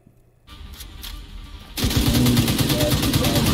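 Gunfire in The Division 2, a loud, dense burst of rapid shots that starts suddenly and keeps rattling to the end after a quieter stretch of background noise.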